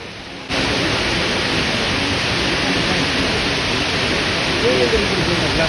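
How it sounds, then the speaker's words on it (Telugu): Abbey Falls in Coorg pours in a loud, unbroken roar of falling water that begins abruptly and fills the whole stretch, with a faint voice briefly audible beneath it near the end. "Abe water falls one of the best water falls in Coorg"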